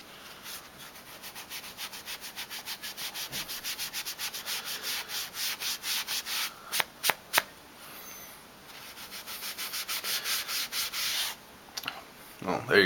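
Rhythmic scrubbing strokes as gunk is rubbed off wet hiking knives, a steady series of close, rasping back-and-forth rubs with a few sharper scrapes partway through.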